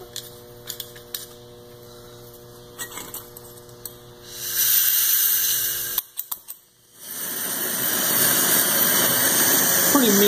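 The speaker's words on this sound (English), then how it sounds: "throwing a flame in all directions, so this thing's definitely meant to heat up some type of pipe" A Harbor Freight 91899 burner throws flame in all directions with a loud, rushing roar after some light clicks and clatter. The roar breaks off briefly in the middle, then returns strongly and holds.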